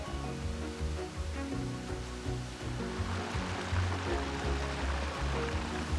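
Steady rushing water roars continuously, a broad wash of falling water from a waterfall in the Blue Mountains near Hargraves Lookout, heard from a moderate distance with no voices.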